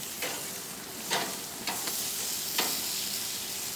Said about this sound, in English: It's unrealistic to flip them all evenly, so just stir them up as best you can.